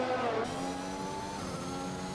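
Race cars revving and accelerating in unison at a safety car restart in F1 2021 on Xbox at the Russia circuit, a loud layered engine whine climbing in pitch, with no talking.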